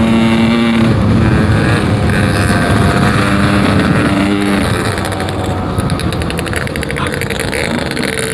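A motorcycle engine revs hard between 4,000 and 6,000 RPM on a ride home from a club anniversary event, giving a loud, dense, continuous roar that holds steady for the whole stretch.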